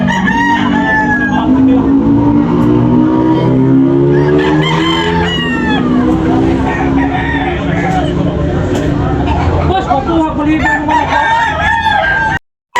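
Roosters crow repeatedly at a busy chicken market in Tabunok, Talisay, their loud, overlapping calls rising over clucking and a dense crowd babble, with people talking and haggling close by.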